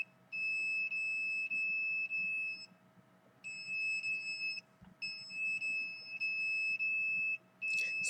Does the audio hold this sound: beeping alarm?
yes